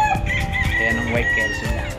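A white kelso gamefowl rooster crows at a game farm in Tanay, Rizal, with other chickens calling nearby; the crow sounds somewhat distant and blends into steady farmyard noise.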